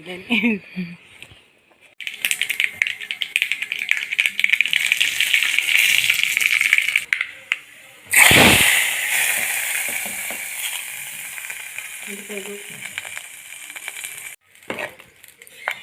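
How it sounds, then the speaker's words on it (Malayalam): Mustard seeds and curry leaves frying in hot oil for a sambar tempering, a loud crackling sizzle that cuts off, then bursts up again as the hot mixture hits, fading with pan rattles and brief talk. "ഇനിയിൽ കടുവും കറിവേപ്പിലെല്ലാം വറുത്തിട്ട്"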